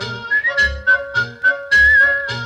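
Loud, sustained whistled melody from a vintage Disney vinyl record of Three Little Pigs, a clear pure tone carrying the tune over rhythmic orchestral backing with steady beats.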